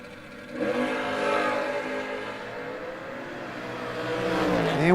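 Drag race cars including a Camaro with a 566 engine roaring at a drag strip, a loud sustained engine roar rising in pitch as they accelerate, heard at some distance with no talk.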